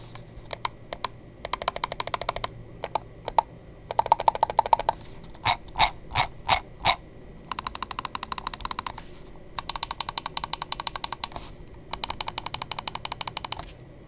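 Sharp Zowie U2 gaming mouse button clicks in quick bursts and single taps, close and crisp, with a few slower isolated clicks in the middle, no talking.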